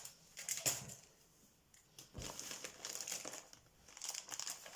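Paper crinkles and rustles up close while a parcel is unboxed, in irregular bursts of crackling and crumpling with short quieter pauses between handlings.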